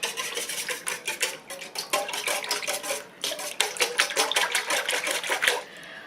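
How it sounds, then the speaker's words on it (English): A whisk beats melted butter, salt and milk in a bowl, a steady run of quick clinks and scrapes against the sides that continues close and fairly loud for several seconds. "Now you're going to whisk that together."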